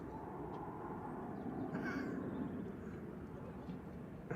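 A passenger jet at Manchester Airport during a plane-spotting session roars steadily and loudly throughout, a broad engine rumble that swells slightly midway without a break.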